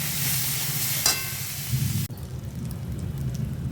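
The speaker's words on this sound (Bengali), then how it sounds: "ভালো করে ভাজবো।" Pointed gourd frying in a pan after salt and half a spoon of turmeric go in, a steady close sizzle that drops away abruptly halfway, leaving a quieter hiss.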